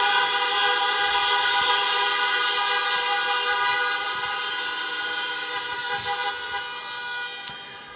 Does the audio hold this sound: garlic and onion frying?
no